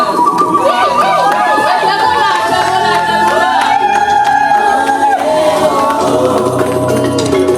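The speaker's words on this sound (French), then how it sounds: "Alors on pousse des cris de joie pour Gaël" Wedding guests at a religious ceremony raise loud, continuous cries of joy and warbling cheers as the bride enters on her father's arm, a dense crowd roar held steady throughout.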